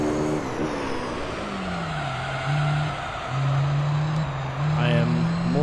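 Race cars in Gran Turismo 3 whine through gears with rising and falling engine tones and tire squeals, several shifts in a few seconds, loud and continuous.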